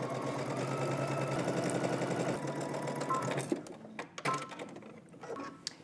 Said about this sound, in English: Now we're gonna head to the sewing machine, and just like we did for the back, we're gonna go ahead and stitch using 5/8 of an inch seam allowance